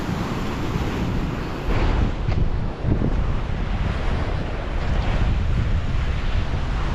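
Strong wind buffets the microphone continuously over crashing surf, a loud, steady roar at the seaside with no voices.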